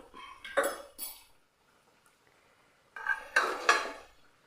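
A metal ladle clanks and scrapes against a pressure cooker while scooping fried puffs out of the oil, in two clusters of clinking strokes separated by a near-silent pause.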